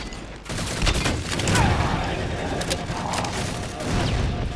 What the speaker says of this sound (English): double kill with one grenade